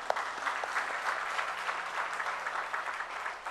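Steady applause from a church congregation at a worship service held by a presbytery elders' association in Daegu, Korea, fairly distant and unbroken throughout.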